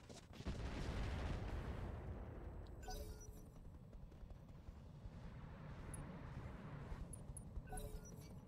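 Mech weapons fire in a modded BattleTech battle: a heavy booming blast opens, followed by a long rumbling barrage of explosions and impacts with faint, scattered electronic blips on top.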